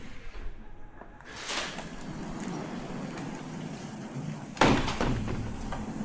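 Sliding pocket doors in a Florida 55+ community home rolled open, with a soft rumble and a sharper thud of the panels near the end, heard close over steady room tone.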